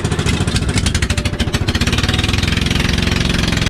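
A fishing boat's engine runs loud and close, chugging in a fast, steady rhythm throughout with no voices over it.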